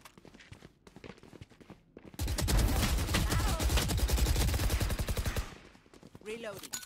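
Sustained rapid gunfire from a Valorant match fills the middle stretch, a loud dense burst of repeated shots lasting about three seconds, with quieter game sounds and a voice before and after.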